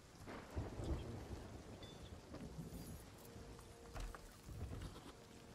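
Rain falls steadily in the pirate game Sea of Thieves, a soft, faint wash with low rumbles of thunder rolling through it and no voices.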